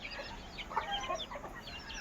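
A farmyard chicken clucks in a few short, scattered bursts against steady outdoor background noise, fairly close and moderately loud.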